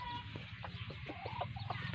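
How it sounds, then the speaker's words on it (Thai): A wild junglefowl rooster crows from somewhere in the surrounding forest, its calls broken into short bursts over a low steady background. "ไก่ป่าตัวนึงมันขันอยู่ไหนนะ"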